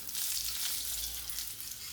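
Sardines sizzle steadily in hot oil in a pan, a continuous bright crackling hiss with no pauses, fairly faint and close, with no talking.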